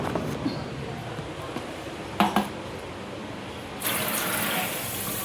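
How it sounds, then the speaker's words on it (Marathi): Running tap water gushes steadily into a kitchen sink as mixed red lentils and dal are rinsed, with a brief clatter midway and the flow growing louder and brighter near the end. "दोन्ही डाळ मिक्स करून त्याला आपण चांगलं धुवून घेऊया."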